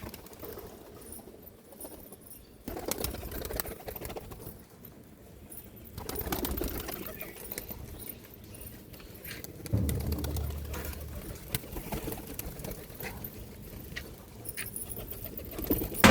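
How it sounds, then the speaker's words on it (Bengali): Kaldom pigeons, including Kalpora Kaldom youngsters, take off in repeated bursts of wing flapping, with soft coos and rustling close by and no talk. "এই যেটা কালদম পায়রা উঠছে বন্ধুরা"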